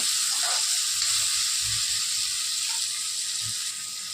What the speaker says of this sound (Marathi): टमाटर हे पण लालसर भाजून घेणार